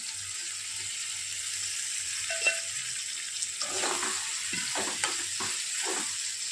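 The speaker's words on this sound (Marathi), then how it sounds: "आता आपण टोंडे जे फ्राय केले होते ते टाकूया।" Pan-fried ivy gourd (tondli) goes into a pan of cooked tomato masala, bringing a steady soft sizzle with intermittent scraping stirs close by and no speech.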